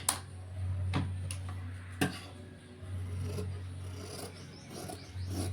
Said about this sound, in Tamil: இப்போ நம்ம ஆம்கோல் வளைவு கட் பண்ணலாம்.